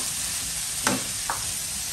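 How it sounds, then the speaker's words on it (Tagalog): Egg sautéing with Korean pechay, tomato, onion and garlic gives off a steady close sizzle, with two short stirring scrapes in the middle. "Ginisang itlog na may Korean pechay with kamatis at sibuyas at"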